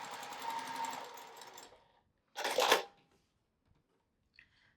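A sewing machine stitches a seam in a charm-pack quilt wall hanging, running steadily for about two seconds, then a brief second burst of stitching, with a small click at the end.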